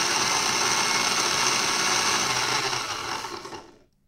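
A drill spinning wire held in pliers for a fused Clapton coil runs with a steady, loud mechanical whirring at full speed for a few seconds, then winds down and cuts to silence.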